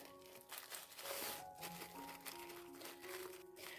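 A plastic bag being filled with grain for storage crinkles up close, irregular rustles and crackles through the whole stretch, with no talking.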